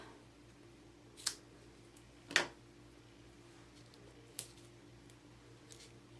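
Scissors cutting paper in half for a handmade card: a few brief, quiet snips spaced apart against a faint background hum, close by and without speech.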